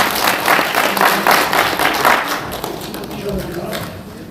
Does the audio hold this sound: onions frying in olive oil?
no